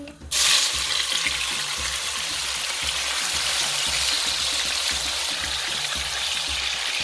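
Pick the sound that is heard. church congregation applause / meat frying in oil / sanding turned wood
meat frying in oil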